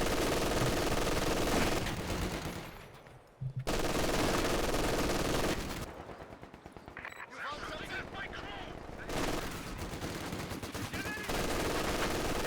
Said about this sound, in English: Having a huge exchange of gunfire. The MG42 seems to be getting the upper hand here.